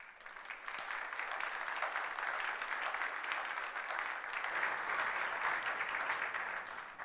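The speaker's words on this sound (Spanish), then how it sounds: "les pido que recibamos con un fuerte aplauso" An audience at a forum applauds steadily and fairly loudly for the full stretch, a dense even wash of many hands clapping with no voices standing out.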